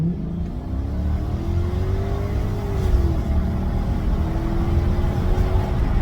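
A Lexus LS460 V8 with a modified open exhaust rumbles close by, a deep, growling engine note that rises and settles through a couple of revs over a steady low idle rumble.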